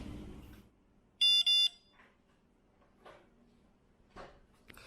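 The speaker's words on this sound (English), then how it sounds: "It beeps and I turn it over." Two short, sharp electronic beeps from a Samsung UV-C phone sanitizer finishing its cycle, in a quiet room, followed by a few faint clicks and soft handling noises.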